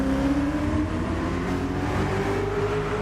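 A Ferrari race car in a racing video game accelerates hard, its engine a steady, loud, rising whine with a dense low drone underneath, with no break from start to finish.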